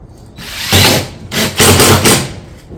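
A power drill drives fasteners through barrel vault roof tile caps into the battens along a ridge, in loud, close bursts of whirring with short pauses between them.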